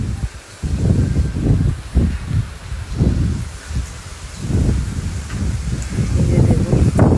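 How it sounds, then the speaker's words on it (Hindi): Heavy rain driven by strong gusting wind, a broad steady wash with surging, rustling low-frequency buffeting from wind hitting the microphone, rising and falling in waves throughout. "ये देखो भाई, बहुत खतरनाक बारिश हो रही है।"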